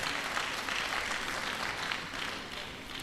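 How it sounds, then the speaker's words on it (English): Steady, dense applause from a large audience at an annual seminar, filling the whole stretch at an even level with a faint murmur of voices underneath. "can we give ourselves a round of applause"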